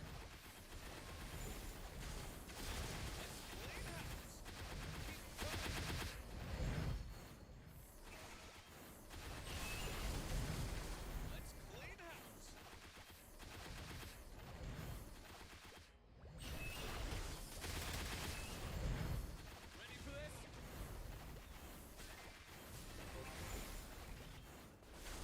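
Rapid gunfire and explosive bursts from the video game MapleStory, a dense continuous barrage of shots and impacts with whooshing effects over busy game audio, loud throughout with a brief drop near the middle.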